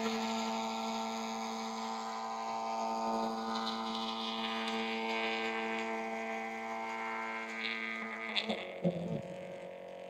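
Phomemo TP81 thermal tattoo transfer printer feeding and printing, a steady droning whir with tonal hum that runs throughout at moderate level, ending with a few faint clicks.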